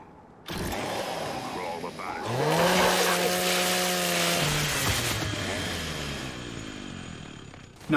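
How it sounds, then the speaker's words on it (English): Lancer chainsaw from the video game Gears 5, played through a life-size Lancer motion controller: a sudden start, then a loud revving whine that rises, holds for a few seconds and slowly winds down. "to activate the chainsaw, you simply pull the lever on the Lancer just like in the game"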